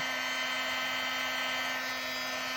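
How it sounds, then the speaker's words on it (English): Heat gun blowing to melt embossing powder on a handmade card, a steady, close, even whine with a constant hum underneath and no breaks. "now that my gun has been heating for a couple of seconds, it's nice and hot"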